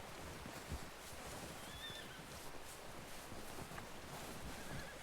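A horse whinnies in Red Dead Redemption 2, with clip-clopping hooves in a steady game soundscape. The sound stays moderate and continuous, with no voices.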